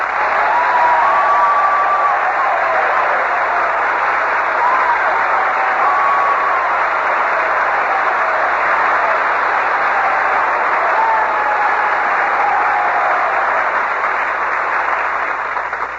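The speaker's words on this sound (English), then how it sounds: "you can tell by that applause" A large crowd of servicemen at a 1945 Bob Hope show in Corpus Christi, Texas, applauds Commander Robert Montgomery in a long, loud, unbroken roar of clapping, with faint whistles rising above it.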